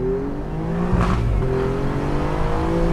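A red Alfa Romeo Giulia Quadrifoglio sports saloon revs hard, its engine note swelling sharply at one point and holding a loud, steady growl throughout, with no talking over it.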